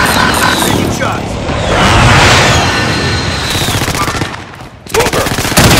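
Automatic weapon bursts and gunshots crackle through a Warzone match on Rebirth Island, loud and dense across most of the stretch, with a short lull near the end before firing resumes, and voices sound over the action.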